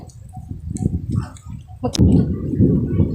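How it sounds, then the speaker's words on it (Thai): A sudden loud crack of thunder bursts out, followed by a sustained low rumble, with people talking softly beforehand. "ตกใจเสียงฟ้าร้อง"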